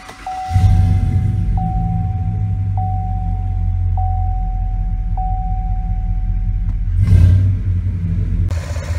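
A warm truck engine at operating temperature idles with a loud, steady low rumble, rising briefly into a rev near the end, with a thin whine running through it. No one speaks.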